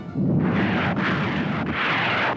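Naval guns bombarding a landing site on Wolmi-do before dawn, a continuous rumbling barrage with rolling booms swelling and fading, loud and dense without any voices.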